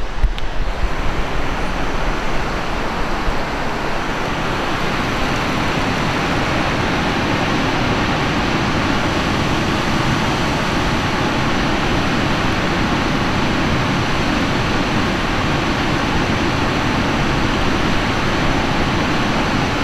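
Waterfall below Devil's Kettle at Tettegouche State Park, a dense, continuous roar of falling water close by, steady and loud throughout with no voices.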